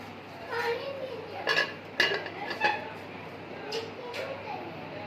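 A lid clatters onto a pan of tomatoes simmering over a medium flame, a few sharp metallic clinks and knocks standing out against a low, steady kitchen background.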